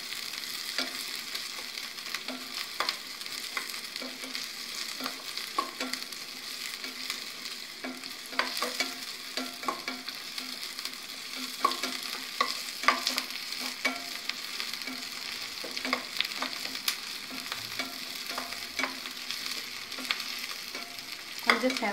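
Sliced small onions (shallots) frying in oil for a traditional Palakkad-style tamarind curry, with steady crackling sizzle and a spoon scraping and stirring the pan in repeated taps, close and continuous with no talk.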